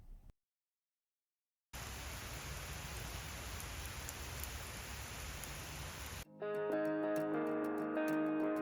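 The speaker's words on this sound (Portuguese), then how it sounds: "sem querer acabei filmando a chuva chegando" Rain sweeps in around a castle in Moravia as a steady, dense hiss of falling drops, moderately faint and continuous for several seconds, followed by a short burst of music.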